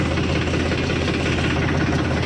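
A tractor engine idles steadily nearby, a continuous low rumbling drone with a regular mechanical knock and no talking.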